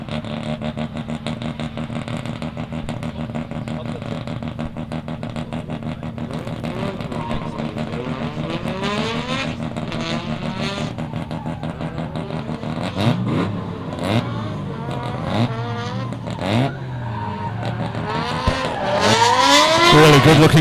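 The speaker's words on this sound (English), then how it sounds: "He's on the loud pedal nice and hard. Just winding the gas on, winding the lock on through zones 2 and 3 and 4." Drift car at Meremere Drift Park during a qualifying run, engine revving hard with rising and falling pitch, tyres squealing and skidding later on, loud, with a commentator talking over it.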